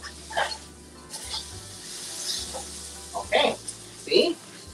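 Salmon fries in an oiled pan, with soft sizzling bursts and clatter that come and go over a low background hum.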